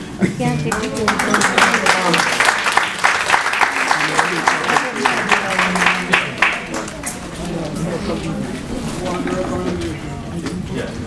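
Conference audience at a disabilities session applauds with steady, dense clapping that fades slightly toward the end, with some crowd murmur mixed in.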